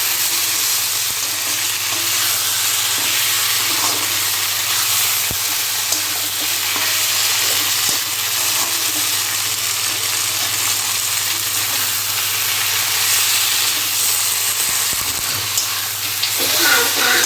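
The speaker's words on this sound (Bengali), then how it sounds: "মাংসটা কষতে কষতে একটা খুব সুন্দর কালার চলে এসছে" Chicken is fried and stirred down (kosha) in a pan with a continuous loud sizzle and hiss, with occasional scrapes of stirring over a low steady hum.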